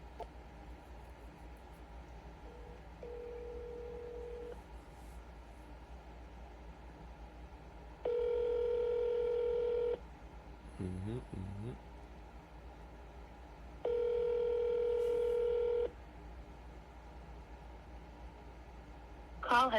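A phone on a cold call rings out, with repeated ringback tones separated by pauses and a short burst of dialing tones in between, heard faintly against low background hiss.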